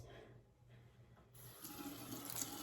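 Tap water runs steadily into a sink while a makeup brush is rinsed under it, a soft continuous hiss and splash that swells slightly toward the end, with no talking.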